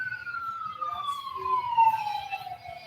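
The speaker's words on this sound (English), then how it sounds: "Did you hear the alarm? The sirens ring?" A faint siren wails in a slow descending sweep from a distance, over a low rumbling background.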